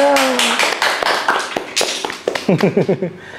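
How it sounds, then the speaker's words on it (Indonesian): Handclaps from a few people in a podcast studio, several sharp claps in a quick, uneven rhythm toward the end, close and fairly loud, with talking heard before and between them. "Tepuk tangan lagi, Bro."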